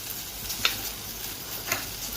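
Tomatoes and mixed vegetables roast in oil in a pan for veg kolhapuri, a quiet steady sizzle with two brief stirring scrapes, fairly faint and without talk.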